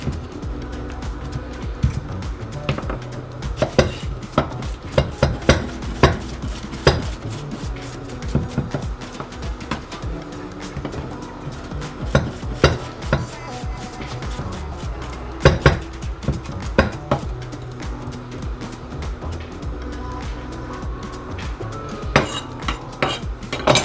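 Knife dicing food into small centimeter-sized cubes on a cutting board during rib preparation, a steady run of quick, close chopping taps with clinks of dishes and utensils, no voices.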